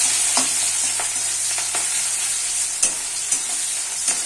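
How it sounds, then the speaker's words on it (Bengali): A medium chopped onion fries in a pan over whole cumin seeds for a katla fish curry, a continuous crackling sizzle broken by soft scraping stirs and occasional taps. "এখন দিয়ে দিচ্ছি একটা মাঝারি সাইজের পেঁয়াজ কাটা।"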